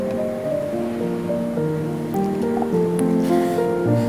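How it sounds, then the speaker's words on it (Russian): Milk pours into a small steel pitcher at a kitchen counter, a close, steady liquid gurgle whose pitch climbs as the pitcher fills over a few seconds. "Берем пинчер. Заливаем туда молоко,"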